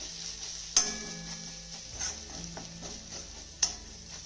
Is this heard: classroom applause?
no